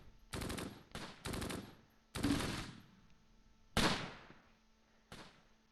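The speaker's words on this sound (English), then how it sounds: "All right, they're shooting at Al." Gunfire in the Close Combat video game, set on the Fontenay-Caen road in Normandy, 1944, cracks out in separate sharp bursts of varying length with quiet gaps between them, moderately loud and with no talk over it.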